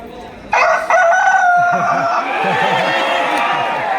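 Rooster crowing in a stage play, loud and close: a sudden long crow followed by a second, then repeated clucking and crowing calls running on over a murmur of voices and room noise.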